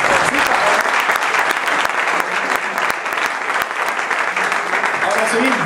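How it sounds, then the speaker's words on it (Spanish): An audience gives Estercita loud, dense applause at a tribute to Colombian musicians, rapid overlapping claps forming a continuous close roar that stays strong throughout. "vamos a brindarle un fuerte aplauso a Estercita"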